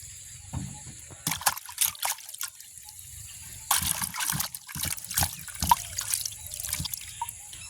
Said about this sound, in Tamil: நாங்கள் தண்ணி ஊற்றி படிவாக கழுவுவோம்